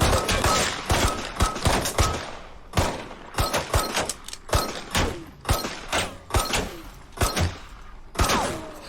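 Gunfire plays from a Better Call Saul television episode as a rapid, loud volley of repeated shots. Sharp bangs and heavy thuds follow one another unevenly for several seconds.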